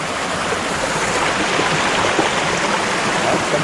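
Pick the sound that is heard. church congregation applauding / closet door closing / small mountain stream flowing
small mountain stream flowing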